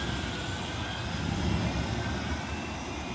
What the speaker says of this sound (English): And the tram's departing.